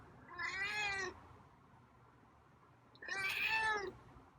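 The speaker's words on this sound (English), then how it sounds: "meows are getting louder" A feral cat meows twice, each cry drawn out, rising and falling, about two seconds apart with a quiet gap between them, heard up close and clear with no other sounds.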